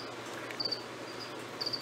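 Crickets kept as feeder insects for leopard frogs chirp softly in short, high trilling bursts over a quiet background.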